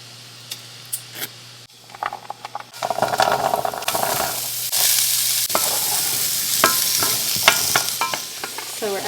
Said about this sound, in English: So we're adding all of those diced turnips into the pan